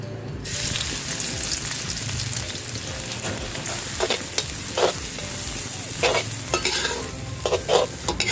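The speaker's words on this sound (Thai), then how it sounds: "ใส่กระเทียมลงไปแล้วค่ะ แล้วก็เจียวนะคะ ให้กระเทียมมันเหลืองกรอบก่อนเลยค่ะ" Garlic frying in oil in a pan over medium-low heat, a steady dense sizzle with occasional stirring scrapes and crackles, close and continuous throughout, no talking.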